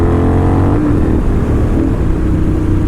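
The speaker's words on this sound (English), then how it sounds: "Okay, that was a decent power wheelie." Loud, close engine roar of a motorcycle pulling a power wheelie in second gear, a deep throbbing rumble that shifts pitch as revs change, filling the whole stretch with wind buffeting.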